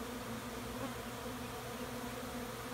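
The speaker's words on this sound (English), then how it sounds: "I don't like to disturb the bees too much because then they stop working." Honey bees buzz steadily around a frame lifted from a backyard hive during a light inspection, a dense, continuous hum at moderate distance with no talking.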